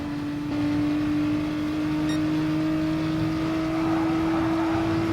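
A Renault Megane Trophy race car engine drones steadily in a racing video game, holding a sustained buzzing tone that climbs slightly in pitch as it accelerates, moderately loud and alone.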